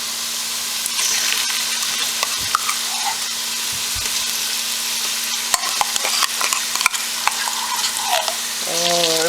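Tomatoes fry in a pan for a fried beans dish, giving a loud, continuous close sizzle with scattered crackles and stirring clicks that build toward the end, with no one speaking.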